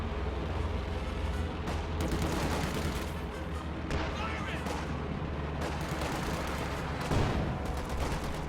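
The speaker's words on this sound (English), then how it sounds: "Rifle grenade fails to unseat that machine gun." Gunfire and machine-gun bursts from a WWII strategy video game battle, with rifle grenades and artillery, rattle continuously at high density with occasional louder booms, under steady game noise.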